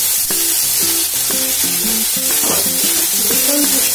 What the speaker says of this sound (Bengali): এবার এটাকে ভাজা ভাজা করছি